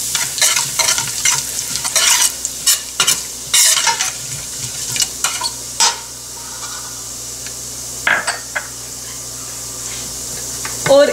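Cumin and fenugreek seeds sizzle and crackle in hot oil as they are stirred in a pan for an aloo gosht curry, a steady frying hiss broken by frequent sharp scraping and stirring clatters, close and fairly loud with no talking.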